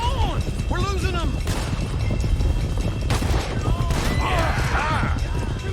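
Gunfire crackles during a horseback chase in the video game Red Dead Redemption 2. Scattered shots burst loudly over constant hoofbeat-like rumble, mixed with shouting voices.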